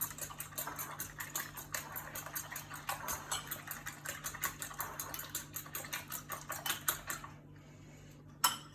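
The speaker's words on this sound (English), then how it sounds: "So we'll just stir this one up." A duck egg being stirred in a bowl, a fast run of light clinking taps from the utensil against the bowl that keeps up for about seven seconds and then goes quiet, with one last tap near the end.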